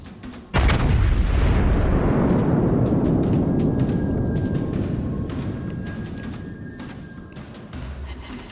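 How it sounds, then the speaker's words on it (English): A battleship main gun salvo in the World of Warships naval game fires as one huge, close boom that rolls on as a long, slowly fading rumble, with faint tonal effects drifting over the decay. "that was a good salvo. That's the kind of salvo we need"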